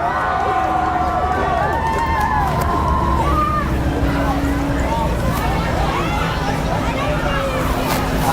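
A noisy crowd cheers and shouts at a siren convention, making a dense, continuous babble of raised voices that stays loud throughout, with individual shouts rising above the mass.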